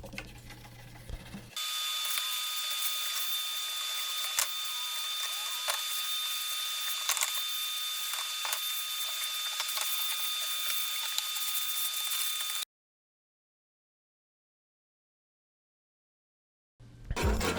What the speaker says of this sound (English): used a wire brush to brush some of the loose material out of the places the sander couldn't get